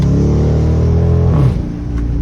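A Dodge Charger R/T's exhaust drones and revs loudly from inside the car while driving, a deep sustained engine rumble that rises in pitch and then eases off near the end.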